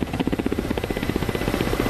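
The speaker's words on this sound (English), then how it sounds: "Now we got some motion to go along with our helicoptering." A helicopter in DCS World flies close by, its rotor beating in a fast, even chop over a steady engine drone, loud and continuous with no voices.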